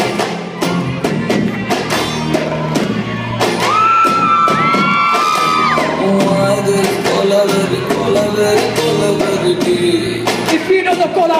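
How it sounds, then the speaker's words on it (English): Crowd of children and adults at a kids' show cheering, whooping and clapping loudly and continuously, with shouts rising over the din and a singing voice blending in partway through. "Keep those hands clapping."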